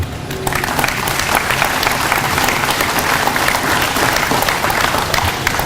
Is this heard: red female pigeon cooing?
no